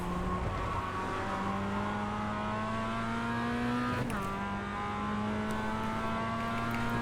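A Mazda MX-5 race car in iRacing drones steadily at high revs on a drying track at Navarra, its engine pitch rising gradually with a brief shift-like dip midway, continuous and close.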